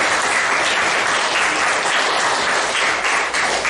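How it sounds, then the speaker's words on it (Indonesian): Steady applause from a classroom of schoolchildren fills the room, loud and dense, holding evenly for several seconds without talk. "Tepuk tangan."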